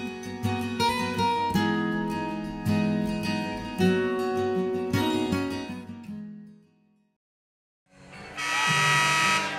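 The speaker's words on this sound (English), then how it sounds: "Hear the buzzer, and we're back" A basketball game buzzer at a boys Class AAAA high school final between Punxsutawney and Bradford sounds as one loud, sustained broadband blast near the end, after music fades to silence.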